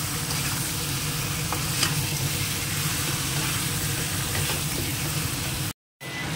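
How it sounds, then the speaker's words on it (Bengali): Onions and chicken fry in a pan, giving a steady, loud sizzle with faint stirring scrapes; a brief dropout near the end. "দেখুন একদম লাল করে এগুলো পেঁয়াজের সঙ্গে ভাজা হয়ে গেছে।"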